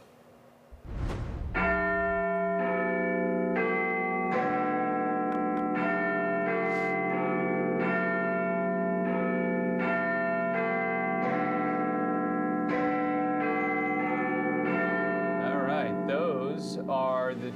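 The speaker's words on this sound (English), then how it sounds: "Chimes of Big Ben in London." Big Ben chiming in London, a loud sequence of deep, resonant bell strikes after a brief noisy start, each tone ringing out and overlapping the next in a slow, stately rhythm.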